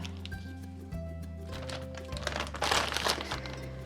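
A plastic sheet is peeled up from decoupage paper with a continuous crinkling rustle that grows louder near the end, close by, over a steady low hum.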